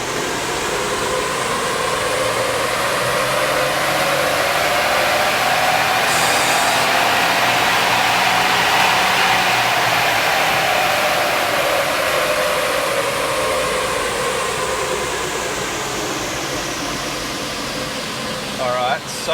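A four-wheel-drive JDM van is run hard on a dynamometer, with a loud steady roar whose pitch sweeps up and then back down over the full pull, heard close throughout.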